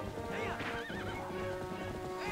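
Horse in the video game Zelda Twilight Princess HD, startled by a bomb, gives a loud wavering neigh over steady hoofbeats as it runs in circles, with game music underneath.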